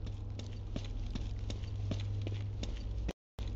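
Footsteps in Roblox patter in a quick, even rhythm of light thuds over a low steady hum, with a short cut to silence near the end.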